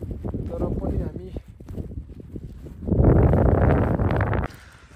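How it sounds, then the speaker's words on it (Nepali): Wind blowing outdoors in the rain, a rough roaring gust that builds loud midway and then drops, following a stretch of people talking. "हावा पनि चलिरहेछ"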